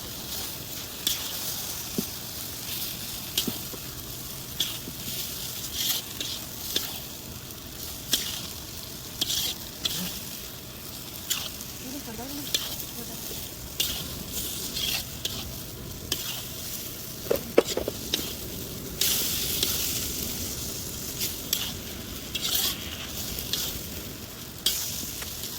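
Hakka noodles stir-fried with chowmein masala, a constant sizzle under repeated stirring clacks and scrapes of a utensil in the pan at an uneven rhythm, fairly close and without talking.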